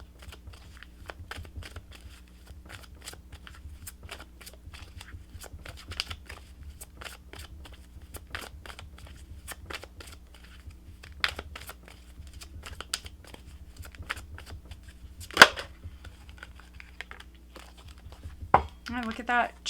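Angel Answers oracle cards are shuffled and pulled in a quiet room: soft, scattered rustling and flicking of card stock, with a few sharper snaps and slides near the end.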